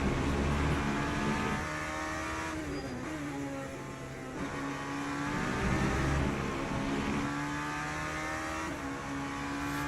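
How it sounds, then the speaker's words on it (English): Aston Martin race car in the Le Mans Ultimate sim racing game, its engine droning steadily and close with rising and falling revs through shifts over about ten seconds, without talk. "Oh, that's an Aston."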